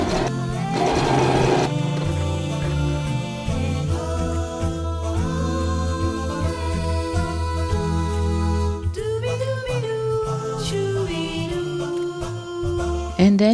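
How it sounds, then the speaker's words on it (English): A sewing machine stitches the side seams of a dress made from thin yellow tablecloth fabric. Its motor whirs in a steady, loud, continuous run, with faint tonal sounds layered over it. "And then I'll sew down the side seams to connect the front and back panels together."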